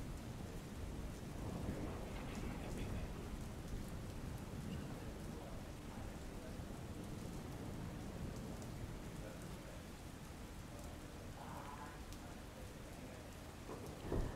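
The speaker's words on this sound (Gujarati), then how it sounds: "વરસાદ પણ પડી રહ્યો છે." Monsoon rain in south Gujarat falls steadily while low thunder rumbles underneath, a soft, even downpour with rolling booms, heard alone without speech.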